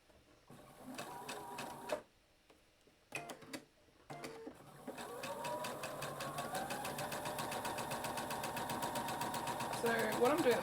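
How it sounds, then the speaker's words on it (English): Sewing machine stitching fabric pieces for a quilt block one after another without cutting threads, a steady rapid motor whir that starts in short bursts, then runs continuously and grows louder near the end. "I'm not actually removing the fabric that I'm sewing off the machine at all"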